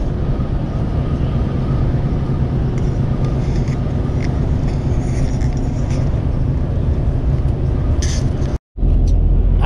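A vehicle cruises on a road at around 85 km/h while another overtakes it, a loud steady rumble of road and wind noise with a brief cut near the end.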